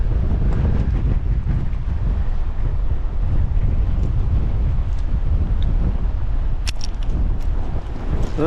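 Strong wind blows hard against the microphone on the coast at Flower's Cove, Newfoundland, a loud, continuous roaring rumble with a faint sea wash beneath it and no talk.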